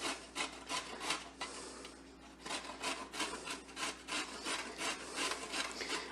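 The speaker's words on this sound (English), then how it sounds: "I happen to have a couple carrots, so I thought we'd grate them." Carrots are grated by hand, a quick rhythmic series of rough scraping strokes, close and fairly quiet, with no talking.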